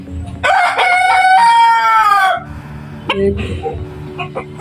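A pet silkie chicken gives one loud, drawn-out crowing call up close, followed by a few softer clucks and rustling handling noises.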